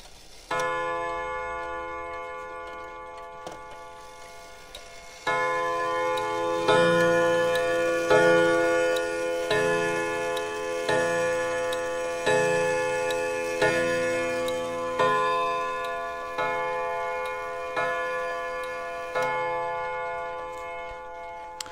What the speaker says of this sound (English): This clock strikes a singular chord onto these 4 chime rods.